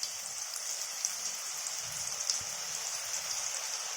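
Boondi batter for laddu dropping into hot oil, giving a steady close hiss of bubbling and sizzling with scattered small pops, continuous and alone with no talk.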